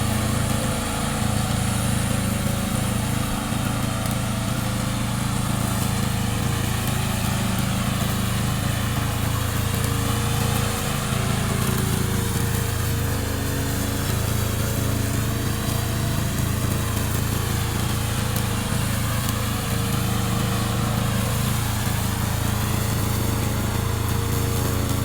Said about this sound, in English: Today I'm glad to introduce our remote control lawnmower.